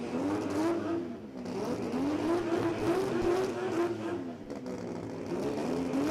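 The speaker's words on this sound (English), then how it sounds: "Had issue in the burnout there for Sam Afghal." Drag race car burnout at the Garrett Brisbane Jamboree 2025, a steady loud engine roar with wavering revs and a brief dip, heard from a distance at a live event.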